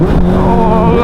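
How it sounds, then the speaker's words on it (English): Honda CBR motorcycle engine, loud and close, its pitch shifting through a downshift on a sunny road ride, with a steady droning roar throughout. "A downshift."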